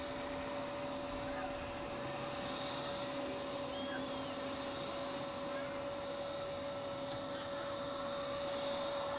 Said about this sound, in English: More inbound aircraft. Here we have an A320neo of Swiss.